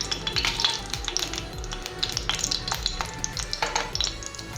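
Dried red chillies fry in a pan for tomato chutney with a close, continuous crackling sizzle. Irregular taps and scrapes of stirring run through it.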